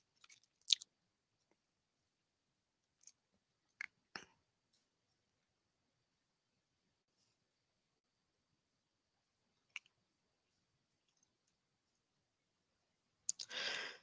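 A computer mouse clicks a few times, sparse dry taps spread across a quiet stretch with long silences between them.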